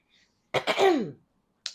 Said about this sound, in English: I've been clearing my throat this entire reading